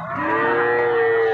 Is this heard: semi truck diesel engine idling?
no